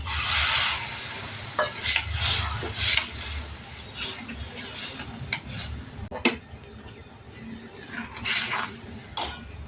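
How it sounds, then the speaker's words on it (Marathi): Boiled urad dal with skins is tipped into hot oil in a home kitchen and stirred: a spoon scrapes and clinks against the pot in repeated strokes over a soft, steady sizzle, close and moderately loud. "आता यामध्ये आपण उकडलेली डाळ घालणार"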